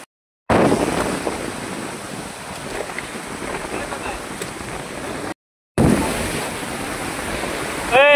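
Rushing water at Bhaje waterfall near Pune, a broad, constant roar buffeted by wind on the microphone, cut by two brief silent gaps, with a voice briefly at the end.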